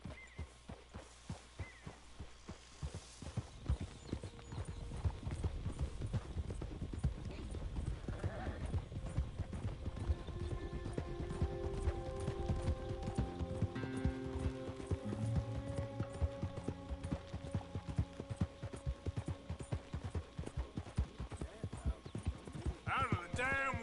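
Horse hooves clip-clop steadily in Red Dead Redemption 2, a continuous rhythmic trot running the whole stretch beneath game music and background sounds, with a short whinny partway through and someone talking at times.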